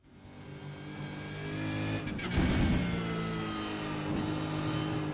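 A race car in a racing simulator lapping the historic Oran Park circuit in Sydney's southwest, its engine whining loud and rising through gears with a brief roar and shift midway, no talk.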